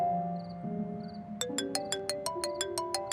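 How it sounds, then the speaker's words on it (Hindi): A phone rings with a repeating electronic ringtone melody over a quiet background score, the chime pulses clear and steady after an opening stretch of music, in a Pakistani TV drama scene. "हारिस का फोन है।"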